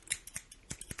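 Scissors snip in quick, crisp bursts, about eight short cuts in a second, close and clear against near silence in an ASMR setting.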